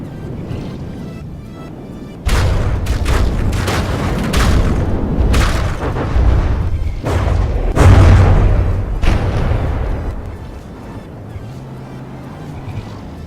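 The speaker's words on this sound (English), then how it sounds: "still firing the missiles and the torpedoes" Naval guns, missiles and torpedoes fire in a ship battle game, heavy booms and blasts repeating in rapid clusters over a steady low rumble, loud and close throughout.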